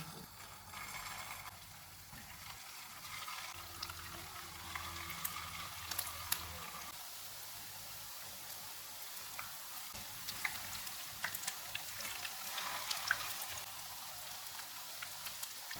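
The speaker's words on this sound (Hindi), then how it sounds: "इस तरह से तैयार करके इनको फ्राई कर लेंगे।" Potato seekh kebabs fry in hot oil over a low-to-medium flame, giving a faint, steady sizzle dotted with small crackles and pops throughout.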